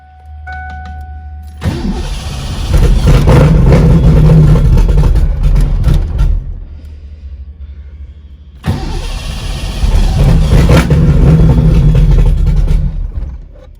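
A 331ci Foxbody engine with a Holley Terminator X is started, runs loud and rough, dies away, then is started and run again, two close, heavy bursts of engine roar with cranking at each start.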